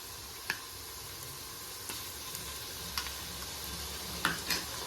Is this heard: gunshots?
no